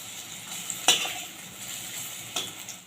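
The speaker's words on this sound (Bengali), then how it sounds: "আমি উল্টে পাল্টে ভেজে নেব বড়াগুলো।" Red lentil fritters sizzle in hot oil in a wok, a steady frying hiss with a couple of sharp spatter bursts as they are turned, close and fairly quiet, with no talking.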